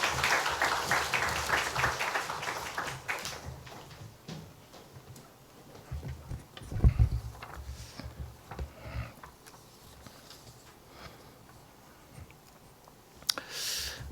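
A church congregation applauds during a Sunday service. The clapping is brisk and dense for the first few seconds, then fades into a quiet hall with scattered small clicks and shuffles.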